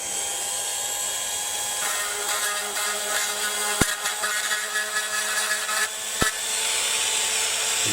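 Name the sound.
Dremel rotary tool grinding off plastic tabs inside model body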